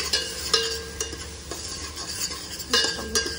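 Pav bhaji with pav bhaji masala, coriander powder and amchur stirred in a pan, soft sizzling under irregular spoon scrapes and light metallic taps, close and fairly loud, with no speech.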